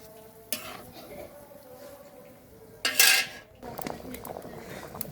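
Broth poured into a pot of chicken and lentil curry, with clinking spoon and pot knocks, a loud splashing pour in the middle and stirring after.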